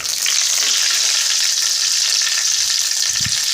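Curry leaves crackle and sizzle in hot oil for a sambar tempering, a dense, steady frying hiss up close with a small bump of stirring near the end.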